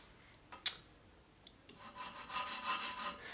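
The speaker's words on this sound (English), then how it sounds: "when you're filing metal with a mill file like this" Mill file rasping across the metal bevel of a hunting broadhead, a few faint clicks and scrapes and then a run of close, quiet rhythmic strokes.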